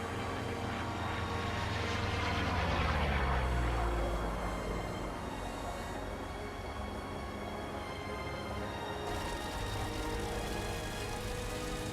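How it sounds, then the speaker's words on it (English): Piston engine of a P-47 Thunderbolt roaring in War Thunder, loud and sustained, swelling as the fighter passes low and fast over a runway then climbing away, with a steady drone continuing throughout. "The Jug's engine roars defiance."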